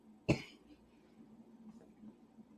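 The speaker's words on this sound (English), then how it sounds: "Excuse me, I have a cough." A single short, sharp cough from a lecturer mid-talk, close to the microphone, followed by quiet room tone with faint murmuring.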